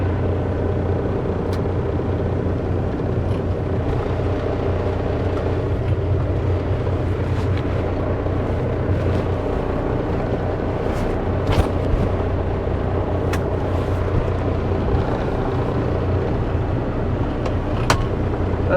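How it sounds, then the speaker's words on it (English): A truck engine idles while warming up before an ice road run, a steady low rumble that runs continuously with a few faint clicks and knocks on top. "just trying to get my truck warmed up a little bit before we take off here"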